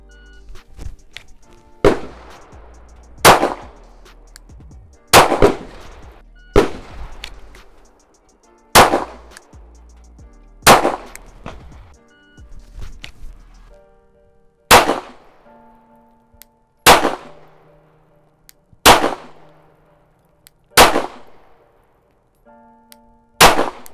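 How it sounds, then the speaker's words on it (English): Shots from a pistol loaded with Shield Arms S15 15-round magazines for a Glock 48 crack out about a dozen times, loud and evenly spaced, each one sharp with a ringing tail. "I'm just gonna try and shoot as fast as possible to see if I have any issues with it."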